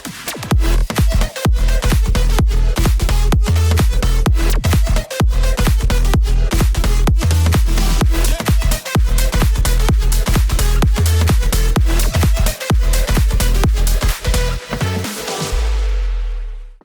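Future House dance track with an Arabic flavour plays loud and continuous, driven by a steady pounding kick beat and dense synth layers, fading out at the end.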